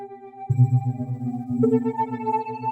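Animoog synthesizer notes repeat in a looping sequencer pattern, with sustained tones shifting pitch partway through and continuing steadily.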